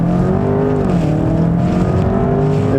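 A 2018 BMW 740e xDrive plug-in hybrid sedan accelerates hard, with a loud, continuous engine drone and layered harmonic whine that rises and falls slightly throughout, heard close up from inside the car.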